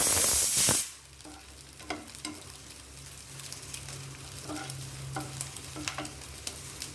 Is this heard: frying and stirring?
yes